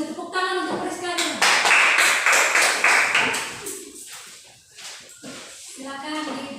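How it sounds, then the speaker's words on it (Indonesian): Classroom applause for a student, a short burst of clapping from several pupils that swells and then fades into murmuring voices and movement. "Tepuk tangan untuk Priska dulu."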